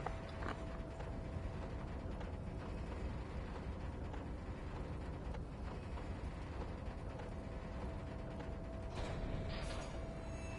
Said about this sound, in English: With a loud grind. The crane shifts overhead, moving a massive metal container through the air.